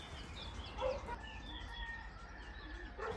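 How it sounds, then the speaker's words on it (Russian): Roosters crowing at dawn in a rural mountain village on Gran Canaria, heard at a distance as drawn-out calls over a steady outdoor background with other birds chirping faintly. "Петухи поют,"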